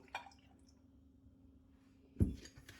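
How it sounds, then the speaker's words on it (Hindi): Half a cup of milk poured into a food chopper lands in one brief liquid splash near the end, after a mostly quiet stretch with a faint tap at the start. "आधा कप मैं इसमें दूध डाल दूंगी"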